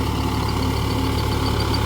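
A Mahindra Yuvo 475 DI tractor drives in second gear while puddling a wet field, its diesel engine giving a steady, loud, continuous drone with an even low throb and no voices.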